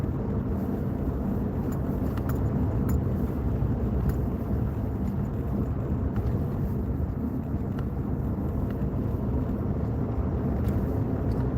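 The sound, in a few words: car driving behind a truck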